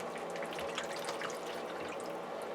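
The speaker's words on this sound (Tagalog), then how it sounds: "bubuhos muna natin ng broth" Broth poured into a pan to make the sauce for pancit miki guisado, a steady liquid splashing and trickling that runs without a break, fairly close, with no talk over it.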